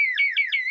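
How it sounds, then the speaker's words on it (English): A short electronic alarm tone warbles in three quick repeating pulses, clear and alone with no voices. "It's the sound of the alarm."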